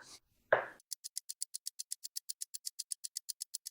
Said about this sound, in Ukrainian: В першу чергу наріжу цибулю досить дрібними кубиками.